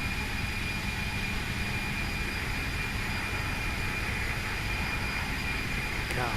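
Steady broadband roar of CFM56 jet engines on a FlightFactor A320 in a flight simulator game, a constant even drone with a thin whine on top, continuous and unchanging, with faint talk underneath.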